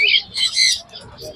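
Parrots at a busy Friday market in Pallavaram give loud, harsh squawks in a quick burst of two or three calls close by.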